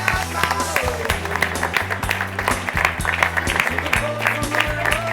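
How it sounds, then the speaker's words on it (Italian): An audience at a contemporary music event in Modena applauds the team, a steady wash of clapping that sits under a sustained low musical hum and some voices. "L'ultimo applauso volevo che fosse per tutto il team."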